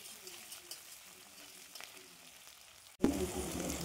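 Onions are dropped into hot oil with dried chili, cinnamon and cardamom. After a faint, muffled stretch, the pan erupts into a loud, close, crackling sizzle that continues steadily to the end.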